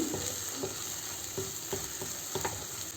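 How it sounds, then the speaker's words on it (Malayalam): A pan of tomato masala sizzles steadily while a utensil scrapes and stirs through it in repeated strokes, close up with no talking. "ഇനി നമുക്കൊന്ന് ഇളക്കി നോക്കാം"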